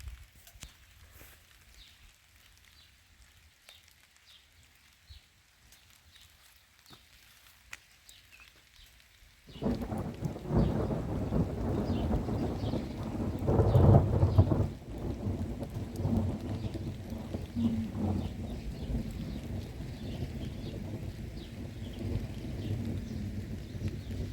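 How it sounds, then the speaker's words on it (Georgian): Quiet near-silence gives way to steady evening rain in a village, with deep thunder rumbling through, swelling loudest midway before settling into a continuous downpour. "საღამო ქუხს წვიმს."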